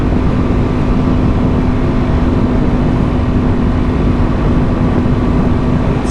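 A 2023 Yamaha R1M motorcycle cruising on the street, its engine a steady, loud broadband drone with a constant hum and rushing wind noise throughout, no voices.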